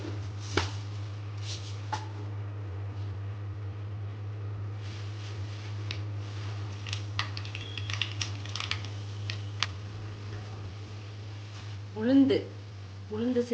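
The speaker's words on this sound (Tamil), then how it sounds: "எண்ணெய் காஞ்சதும் கடுகு சேர்த்துக்கலாம்." Mustard seeds crackle in hot oil while tempering a coconut chutney, giving sharp scattered pops over a steady low hum, with a brief louder burst of sizzling near the end.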